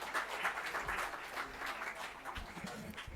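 Applause welcomes a speaker at a Delhi government school event, a fairly faint, steady patter of many hands clapping.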